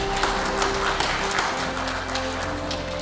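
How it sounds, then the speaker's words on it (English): An audience applauds to welcome an author introduced for a talk on General Patton, giving steady, dense clapping throughout over a low background hum, with no voices. "Let's give him a round of applause."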